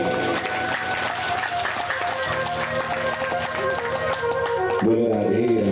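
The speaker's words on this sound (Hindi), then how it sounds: "ठोको ताली।" Listeners at a Bhagavat Katha gathering clap along while devotional music with sustained tones plays loudly, the clapping blended under the instruments and a shift in the music near the end.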